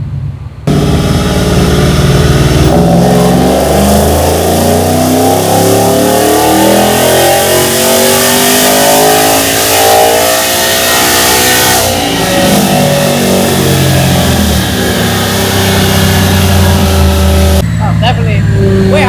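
A full bolt-on Ford F-150 engine revs hard at high RPM on a dyno, a loud, sustained roar climbing in pitch, then falling and cutting off near the end, with people talking over it.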